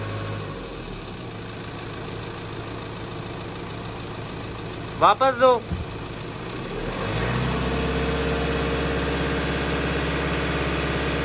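A car engine idles steadily with a low hum during radiator and cooling system flushing, a brief spoken phrase cuts in midway, then the engine note rises and runs louder.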